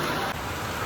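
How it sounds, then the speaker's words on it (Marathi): Rain falls steadily in a sudden storm with hail, a broad continuous hiss of drops on surfaces, moderately loud and even throughout. "आता पाऊसच चालू झाला."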